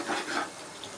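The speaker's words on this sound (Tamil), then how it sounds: "அதுக்காக நான் கொஞ்சமாக தண்ணி ஊற்றி" A short splash of water hits a hot pan of sardine curry close by, giving a brief hissing sizzle that fades within a second.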